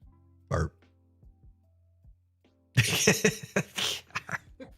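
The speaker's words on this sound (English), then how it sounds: "All of you with your burps." Burps from players during a tabletop role-playing session, one short belch early on, then a loud burst of rough, voiced belching and throaty noises with a few quieter follow-ups, close to the microphone.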